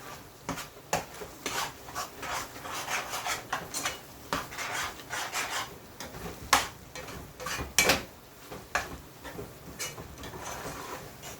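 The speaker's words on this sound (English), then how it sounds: "We don't want it to burn at the bottom, so we have to keep stirring it." A spoon stirs thick coconut sugar cake mixture in a pot for Jamaican grater cake. Close, repeated scraping strokes rub against the pot bottom in an irregular rhythm, with no talking.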